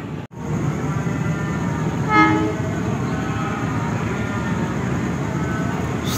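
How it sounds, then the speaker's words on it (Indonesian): The Gaya Baru Malam Selatan train rumbles past alongside the Senja Utama, a continuous rolling rail roar with a brief horn toot about two seconds in, heard from on board. "setelah disusul kereta Menoreh, ini berpapasan dengan kereta Gaya Baru Malam Selatan"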